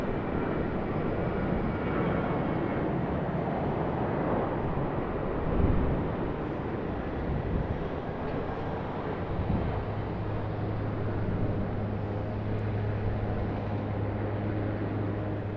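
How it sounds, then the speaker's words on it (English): An Airbus A330-300 of China Eastern taxies toward the gate at Sydney Airport on a cold morning, giving a steady, broad jet-engine rumble with a low sustained hum entering partway through, heard from a distance with wind on the microphone. "we did miss the China Eastern Airbus A330-300. Just pulling into the gate there."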